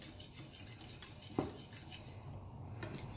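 A spoon stirs chutney ingredients with lime juice in a bowl, producing soft, faint scraping and swishing with one sharper clink of metal against the rim midway.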